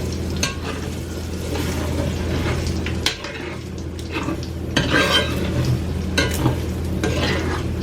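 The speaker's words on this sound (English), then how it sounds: "Now I'm just going to get the eggs cooked up." Eggs fry in a pan for breakfast tacos, a soft continuous sizzle broken by stirring scrapes and occasional clinks of a utensil against the pan, with no voices.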